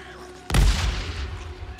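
A pipe bomb goes off in the video game Days Gone: one sudden, loud, close blast with a heavy low boom, then a rumbling tail that fades slowly over the next second or so.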